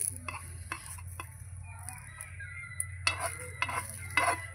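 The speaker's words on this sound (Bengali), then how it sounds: "আমি চামচ দিয়ে তুলছি, আপনারা কিন্তু খুন্তি দিয়ে বা অন্য কিছু দিয়েও তুলতে পারেন" A spoon lifting a mango-filled patishapta crepe from a hot pan, with steady sizzling of frying batter and several light scraping and clinking touches of the spoon against the pan.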